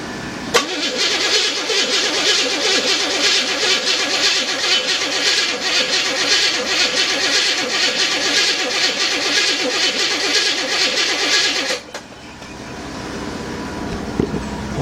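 A 1977 Buick LeSabre's 350 V8, freshly overhauled, cranks and catches, then runs loud and steady close by for about eleven seconds before cutting off sharply, with a faint clunk afterward.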